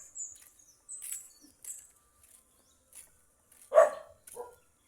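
An unleashed dog barks a couple of times at a distance in a quiet neighbourhood, short sharp yelps among faint chirps and scattered sounds.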